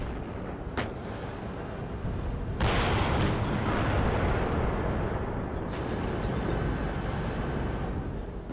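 An M1 Abrams tank's main gun firing and explosions in a WARNO wargame battle come as a sharp crack, then a heavy booming blast with a long rumbling tail and a few further distant shots over steady battlefield noise.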